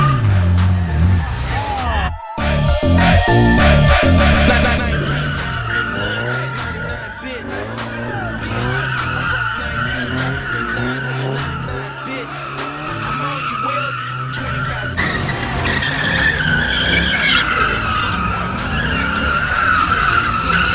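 Car drifting at a San Jose car meet, tires skidding and squealing loudly for the whole stretch with the engine roaring underneath and people talking and shouting over it nearby.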